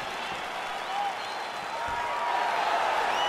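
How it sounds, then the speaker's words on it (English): Arena crowd in the EA Sports UFC 4 video game cheering at the start of a fight, a steady broad roar of many voices that swells slightly louder toward the end. "crowd getting excited as this fight gets underway"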